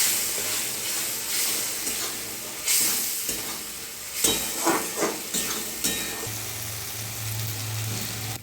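Spiced cashew-poppy paste with a little water and sugar being stirred in a hot frying pan: a steady sizzle and hiss with scattered scraping stir strokes, close and fairly quiet, no talking.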